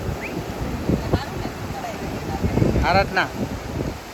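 Sea waves and wind on the shore at Uncha Kotda near the Bhavani temple, a constant blustery roar buffeting the microphone while people talk over it.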